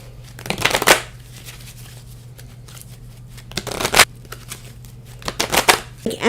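Tarot cards shuffled in close, riffling bursts at a steady pace, separated by short pauses, with a low steady hum beneath.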